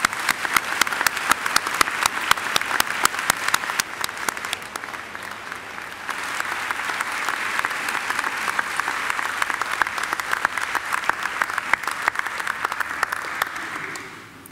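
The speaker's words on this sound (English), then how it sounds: "Ladies and gentlemen, please join me in giving them a round of applause." A large crowd at a Macquarie University graduation ceremony applauds steadily for about fourteen seconds, dense and sustained clapping at a moderate distance, fading slightly at the end.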